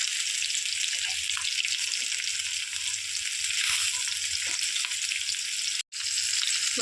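Fish pieces frying in a pan as chapala fry, a steady loud hiss and crackle of hot oil throughout, with light stirring or turning noises and one brief cut near the end.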